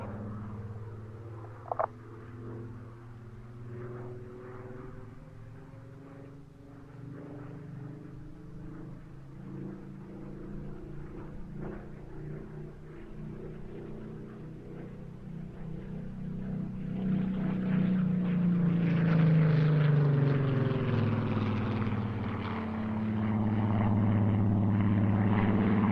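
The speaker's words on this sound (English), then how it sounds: "visible by sight with the clipped wings and sound, the Griffon engine" Clipped-wing fighter with a Griffon piston engine built in 1944, flying past at a Duxford airshow; a distant propeller drone swells into a loud, pitch-shifting roar as it passes, then stays strong as it draws away.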